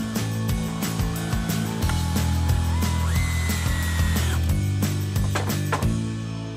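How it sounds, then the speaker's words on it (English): Power drill boring pilot holes through a wooden gate cross brace, whining in several short bursts that rise and fall in pitch, close up and loud with brief pauses between, amid music. "Drill pilot holes through the cross brace and again use deck screws to connect it to the rails."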